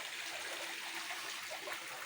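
Steady running water from a spa pool waterfall splashes and pours continuously into the pool, close by and fairly quiet.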